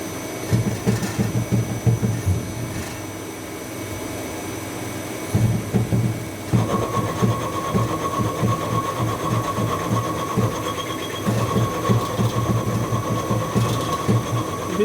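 A CNC turning and milling machine cuts material, giving a steady mechanical hum with clattering, rhythmic ticking and a sustained whine in its second half, loud and continuous with no talk.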